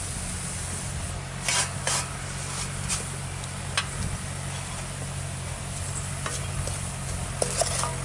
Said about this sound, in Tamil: நல்லா ஒன்றா கலந்து விட்டுருவோம்